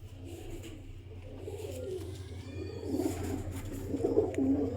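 A Teddy pigeon coos in soft, low, rolling phrases, close by, over a constant low hum, with faint chirps from other birds.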